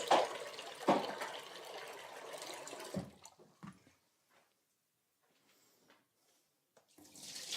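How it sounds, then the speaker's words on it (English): Tap water runs into a container of chickpeas for hummus, a rushing pour for about three seconds, then a few faint drips and clinks before the flow starts again. "Add some more water."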